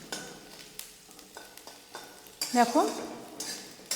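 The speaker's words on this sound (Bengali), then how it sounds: "আদাগুলো আরও ভেজে নেবো" Ginger frying in a pan for a tomato chutney, stirred with a utensil in repeated scraping strokes over a soft sizzle, with a short spoken word in the middle.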